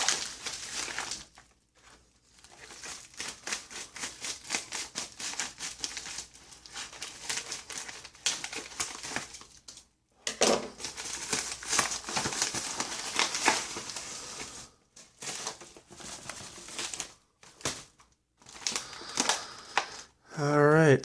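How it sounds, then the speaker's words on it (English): The plastic package of an RGB LED strip kit is torn open and handled nearby, giving loud crinkling and crackling in long bursts broken by short silent pauses. "but first we're going to tear into the package here"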